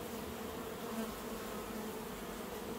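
Honeybees hum in a hive around a caged queen, a dense steady buzz of many insects, constant and close, with no voices.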